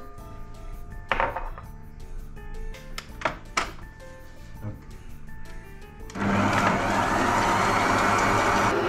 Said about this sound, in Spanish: En un tazón grande de una batidora vamos a mezclar la queso crema y la mantequilla derretida.